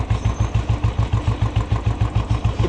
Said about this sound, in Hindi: अब इंजन की नॉइज़ सुनो यार।